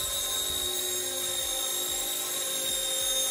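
RC ERA model helicopter hovering, a loud, constant high-pitched whine from the electric motor and rotor with a steady buzzing hum that never lets up.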